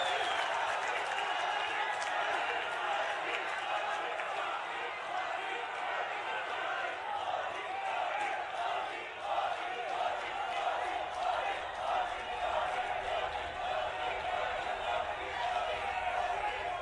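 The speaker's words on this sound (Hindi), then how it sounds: "एक बार जोरदार तालियां माननीय प्रधानमंत्री श्री मोदी जी" A large crowd at a rally for PM Modi in Uttarakhand claps steadily and densely, a sustained wash of applause that holds for the whole stretch with no pauses.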